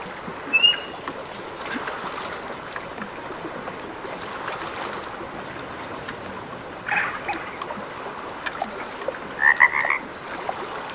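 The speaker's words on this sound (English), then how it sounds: "There are some frogs even here." Frogs croak in short bursts at a moderate distance over a steady outdoor ambience in the video game Way of the Hunter, with a few louder clustered calls near the end.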